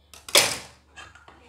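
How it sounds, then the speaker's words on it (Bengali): Kabuli chickpeas go into a pressure cooker in a home kitchen with a brief, bright clattering rush, followed by a couple of soft knocks as they settle. "এই কাবলি ছোলাটাকে প্রেশার কুকারে দিয়ে দিয়েছি"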